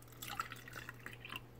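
Water drips and trickles softly into a container being readied for dry brushing miniature paints, a few faint, quick splashes close by in a quiet room.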